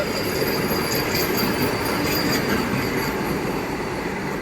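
Steady, close rumble of the 16-coach Secunderabad–Visakhapatnam Vande Bharat Express running by, wheels clattering and squealing on the rails continuously, with no talking.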